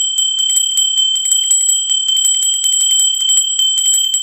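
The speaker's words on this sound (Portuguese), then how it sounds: "Sininho tocou" A notification bell sound effect rings continuously, a loud, bright, rapid run of metallic dings that repeats steadily for about four seconds, with no voices.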